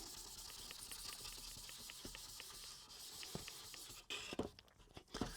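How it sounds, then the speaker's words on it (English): A fine white 0000 scratching pad rubs over a dried wood finish on a knife block in quick, even back-and-forth strokes, a soft close scratchy hiss that breaks into a few louder scuffs near the end. "I'm going to next use this 4-aught white scratching pad to go over everything."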